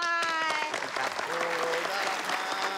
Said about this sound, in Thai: ปรบมือหน่อย